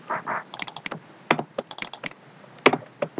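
Code is typed on a computer keyboard: irregular bursts of crisp, close key clicks with short pauses between runs, including a couple of sharper, louder strokes.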